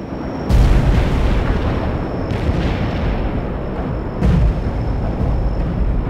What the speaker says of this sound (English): We are dropping our payload. Stay clear. Enemy destroyed.